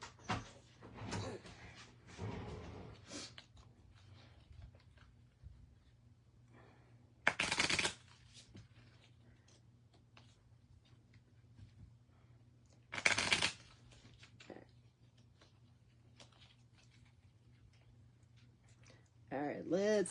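A deck of cards is shuffled by hand indoors in two quick riffling bursts a few seconds apart, with soft handling and talking between them.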